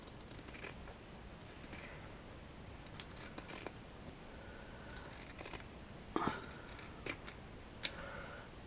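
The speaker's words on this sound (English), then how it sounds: "then we're just going to cut the bit of felt to do the back." Scissors snip through a piece of felt for the back of a padded button, with close, crisp cuts in short bursts separated by pauses and a few light clicks of the blades.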